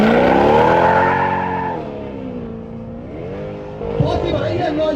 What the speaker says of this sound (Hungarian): Shelly Corvette-jében a turbodízel Skoda ellen